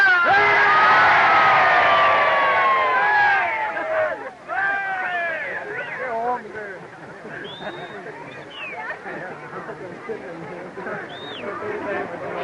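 A crowd cheering and whooping at a horse ranch, a loud burst of mixed shouts at first that thins into scattered calls and whistles, with voices throughout.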